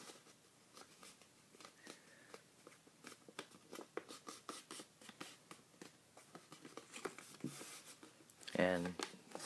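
Paper is creased and folded for an origami Lego piece, producing soft, close crinkles and sharp little taps scattered throughout, with a voice talking at times.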